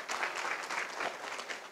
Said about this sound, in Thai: ขอเสียงปรบมือต้อนรับท่านด้วยครับ